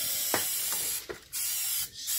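3M 90 contact adhesive spraying from an aerosol can onto a Mustang S197 door panel: a loud, steady close-up hiss with short breaks between bursts, and faint clicks from the nozzle.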